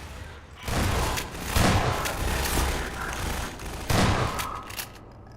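Grenades exploding in the Half-Life 2 video game: a string of loud booming blasts with gunfire-like crackle, three main bursts at roughly one-second and longer gaps, close and dominant with no speech.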